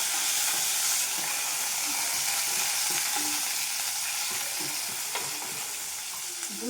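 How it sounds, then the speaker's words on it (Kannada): Chopped onion frying in a pan for a rajma gravy gives a steady, bright sizzle and hiss, with soft intermittent stirring clicks close by and no speech. "ಇದು ಚೆನ್ನಾಗಿ ಫ್ರೈ ಆಗಲಿ."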